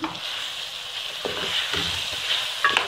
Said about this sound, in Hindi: फ्राई करते हुए हमारे टमाटर जो है ऐसे ही गल जाएंगे